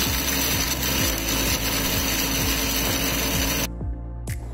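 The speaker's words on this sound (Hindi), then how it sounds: "इस मसाले को हम ग्राइंड कर लेंगे बिल्कुल पाउडर फॉर्म में" An electric grinder powders mace, cardamom and nutmeg with a loud, rattling, pulsing whir up close, then cuts out abruptly near the end with one last brief burst.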